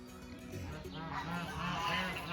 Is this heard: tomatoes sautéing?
no